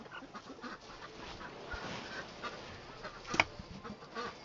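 Chickens in a barn clucking and murmuring continuously at moderate distance, with rustling and one sharper squawk near the end, faint and busy throughout.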